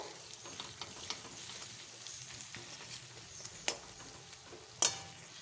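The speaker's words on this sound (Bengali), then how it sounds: "সব মশলাগুলো দিয়ে কিছুক্ষণ একটু নাড়াচাড়া করে নেব" Ground coriander and chilli powder are stirred in a hot pan, a soft continuous sizzle with faint scraping and a couple of sharper clicks of the spoon against the pan.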